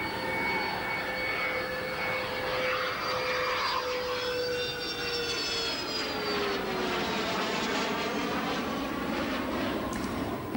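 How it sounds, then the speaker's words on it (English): Space Shuttle Discovery lands at Kennedy Space Center in Florida, a steady loud roar of rushing air and engine-like drone with whining tones sliding downward as it passes, continuous and close, with no talking. "And another smooth landing for Discovery at the Kennedy Space Center in Florida after one day of delay."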